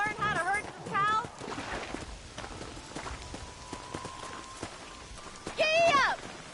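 Video game horse hooves clip-clop in a quick, regular rhythm while cows are being herded. A character's voice calls out over the start and end of the hoofbeats.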